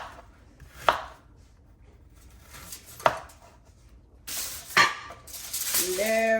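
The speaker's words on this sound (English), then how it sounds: "You can cut it otherwise, but I like this kind of cut. So you just want to cut." A knife chops through plantain on a board in a home kitchen while Jamaican pressed plantain with saltfish is prepared, giving three sharp, separate cuts spaced a couple of seconds apart, followed by brief clattering of pots.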